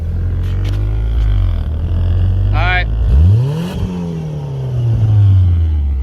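A Mitsubishi 4G63T turbo engine fitted in a Datsun 510 revs from idle through a couple of loud rising and falling blips, with the exhaust recorded up close. A person speaks briefly over it.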